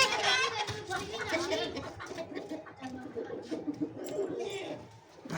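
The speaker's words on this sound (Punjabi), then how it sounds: "ਹੈ ਉੱਤੇ ਬੈਠੇ ਕਬੂਤਰ ਸੋਹਣੇ ਲੱਗਦੇ ਨੇ," Pigeons coo and cluck among a mix of bird calls, sitting close by under continuous overlapping voices of people talking throughout.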